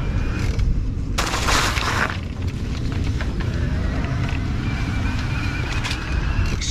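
A Bluejay Premiere Edition e-bike with fenders rolls up onto a sidewalk and over rough ground, giving a steady low road rumble with a brief burst of broadband noise and faint clicks. The fenders stay fairly quiet, with no clear rattle.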